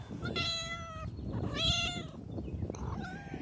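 A talkative cat meows three times in drawn-out, tonal calls, close and clear against a quiet room.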